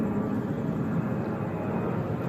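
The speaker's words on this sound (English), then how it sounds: "That's another plane." Fixed-wing airplane flying overhead at night, a steady broad engine roar that holds constant and fairly loud for the whole stretch, with no voices.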